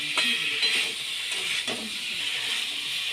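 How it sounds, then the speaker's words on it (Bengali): Boiled jackfruit and potato fry with spices in a pan, giving a soft, continuous sizzling hiss. A few light scrapes from stirring sound close by. "মশলাটার সঙ্গে হিঁচড় আর আলুটাকে ভালো করে কষিয়ে নিতে হবে।"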